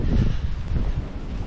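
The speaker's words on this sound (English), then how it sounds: "Oh, it's windy up here, but when the wind drops off, it's very cold." Strong wind buffets the microphone on an exposed hilltop, a loud, gusty low rumble that pulses unevenly throughout with no speech.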